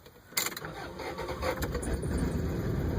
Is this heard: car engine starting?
yes